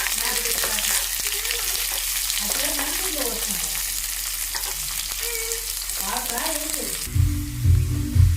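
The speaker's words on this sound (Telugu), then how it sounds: "ఇప్పుడు ఉల్లిగడ్డ మంచి పండుగ అయ్యే వరకు అయితే ఈ విధంగా అయితే ఫ్రై చేసుకోవాలి" Onion frying in a pan for pickle, with curry leaves in the oil, giving a steady close sizzle with some stirring while someone talks over it, then a louder rumble near the end.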